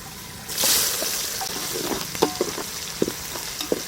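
A burst of loud sizzling as chopped onions hit hot oil, then steady frying with occasional spatula clinks and stirring scrapes.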